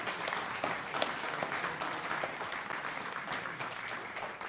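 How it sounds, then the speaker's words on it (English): An audience applauds at a guide dog graduation ceremony, a continuous rolling patter of many hands clapping at moderate volume with a few sharper claps poking through. "let's give him a round of applause"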